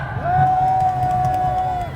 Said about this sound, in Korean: 여러분 큰 함성 주십시오